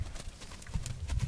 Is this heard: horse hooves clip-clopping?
yes